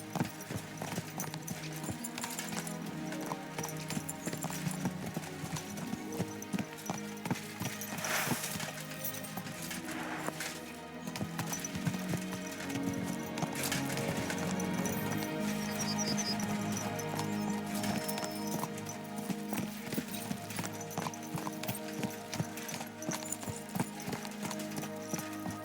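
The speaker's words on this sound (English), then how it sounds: "Let's really spur these horses on" Horses galloping in the video game Kingdom Come: Deliverance 2, a steady rapid clip-clop of hooves running throughout at moderate volume, with game ambience and occasional faint clinks.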